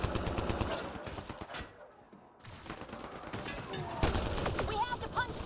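Enemy gunfire in Mass Effect Andromeda rattles in dense rapid bursts, briefly dropping away before resuming loud and sustained, with a voice talking over the shooting.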